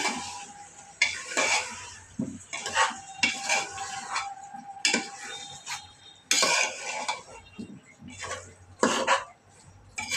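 A spiced curry stirred and sautéed in a pan, with irregular loud scrapes and clanks of a utensil against metal over a low sizzle, close by and in bursts, with a brief cough-like sound.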